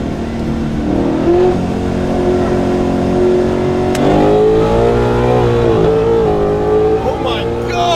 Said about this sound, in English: You blew the tires off.